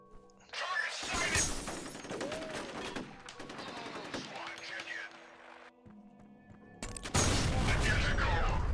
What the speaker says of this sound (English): The grenade hit, everything went down.